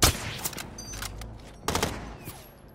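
Video game gunfire cracks out in a few sharp bursts, loud and close, with short gaps between volleys and no talking.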